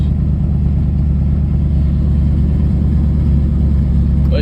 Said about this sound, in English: Give you some nice clips of the exhaust.